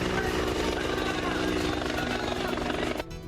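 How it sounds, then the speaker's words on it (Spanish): Helicopter rotor noise throbs steadily and loudly, a continuous thumping drone that cuts off abruptly near the end. "Helicópteros sobrevuelan el lugar."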